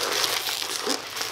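Packaging tape being peeled off a parcel holding a Honda Civic ECU tuning device: a continuous, close crinkling and tearing rasp lasting just over a second, with no talking.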